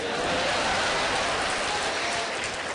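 Audience applause after a poem at a live comedy and poetry performance for a kidney foundation event in Aurangabad: a dense, steady wash of many hands clapping, fairly close and loud, filling the whole stretch with no break.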